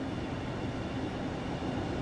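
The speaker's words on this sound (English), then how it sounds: "I hear trains." A train in Train Sim World 2 rumbles steadily nearby, a continuous low rolling drone of wheels and carriages with no breaks.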